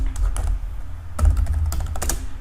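Fingers type on a computer keyboard in two short bursts of close, clicking keystrokes separated by a brief pause, with no talking.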